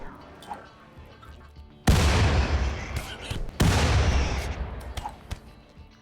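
Two heavy blasts from grenade explosions in RimWorld, each a sudden loud boom with a long rumbling decay, set apart by about two seconds over faint background crackle of distant gunfire.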